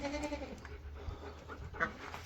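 Goat on a homestead gives a short bleat with some panting breaths, close by and moderately loud.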